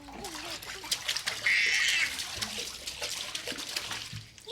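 Bathwater splashes and sloshes in a tub with a rubber duck during a baby's bath, a brief louder burst of splashing in the middle amid continuous watery noise, with faint voices around.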